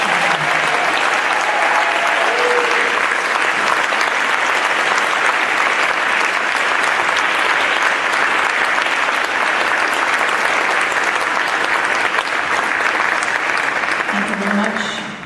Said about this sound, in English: So just one more round of applause for this talent.